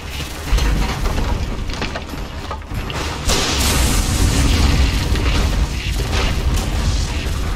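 A tower in Dota 2 is destroyed amid heavy explosions, with deep booming blasts, crashes and mechanical clatter running continuously and loud, and no voices heard.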